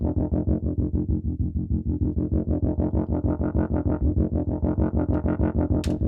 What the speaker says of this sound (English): So I used the tuba sound to create that pulse.